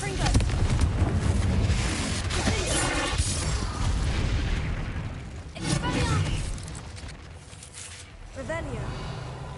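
A Confringo explosive spell from Hogwarts Legacy fires off in a game, with loud booming blasts, a burst near 3 seconds and another near 6, then a smaller hit near the end, all over constant game noise and talk.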